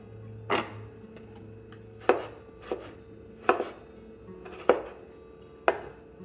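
A sharp knife cuts through a Roma tomato on a board in five or six distinct chops spaced about a second apart, each a crisp close thud, with a faint steady hum underneath.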